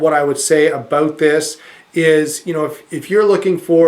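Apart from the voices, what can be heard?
None of the usual background noises is heard.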